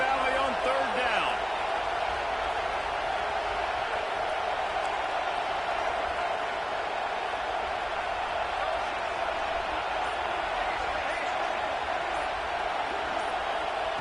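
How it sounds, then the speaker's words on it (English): Big stadium crowd in Happy Valley at a college football game building noise on third down, a constant loud roar with voices talking over it. "Here comes the noise from this big crowd in Happy Valley on third down."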